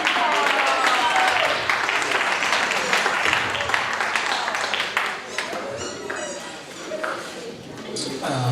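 People at a community dog show applaud senior dogs receiving an award, a mixed clapping that softens and fades while voices talk over it.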